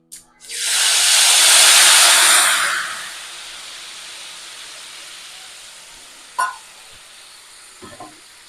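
Tamarind water hits a hot pan with a loud burst of sizzling that fades to a quiet simmer, followed by a couple of metallic clanks.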